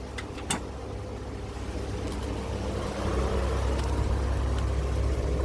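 A Chevrolet Corvair engine idles steadily nearby, its low rumble swelling slightly louder partway through as the throttle is blipped, with no voices present.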